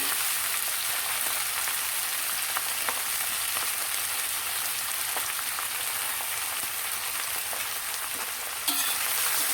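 Brinjal curry frying in a pan, with a loud, steady, dense sizzle and crackle as fenugreek is added, continuous throughout with a faint stir near the end.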